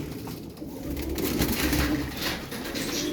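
A mirror-tailed tumbler pigeon coos in soft, continuous low murmurs, close by and steady, with other bird sounds faintly in the background.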